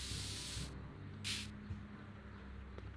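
In the Back to the Future video game, a spray paint can hisses in two short bursts, the first lasting under a second and the second briefly after, over a low hum.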